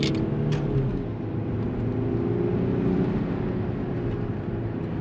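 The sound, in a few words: VW Phaeton Stage 1 sedan accelerating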